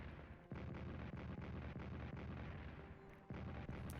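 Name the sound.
artillery fire in video game Strategic Command World War 1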